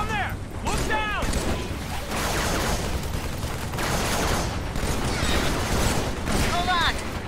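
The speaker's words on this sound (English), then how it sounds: "That was gunfire." Gunfire in Halo 3 on the Sierra 117 level, dense bursts of rapid weapon fire with mechanical clatter and energy-weapon whines, continuous and loud, with in-game voices talking over the combat.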